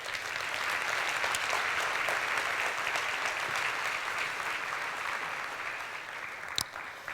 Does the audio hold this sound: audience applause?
yes